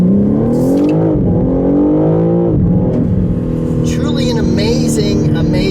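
A 2023 BMW M3 Competition 50 Jahre BMW M edition sports sedan engine hums and revs steadily while driving, its pitch rising and dipping, loud and close, with someone talking over it.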